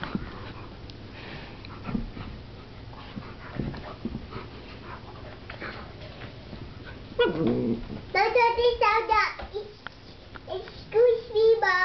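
A giant Airedale and a 13-week-old Picardy Shepherd puppy play up close, sniffing, panting and whimpering in bursts, with a voice and other chatter breaking in over the second half.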